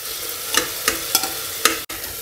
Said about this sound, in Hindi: और टमाटर डाल के इसको फिर से भून लेते हैं।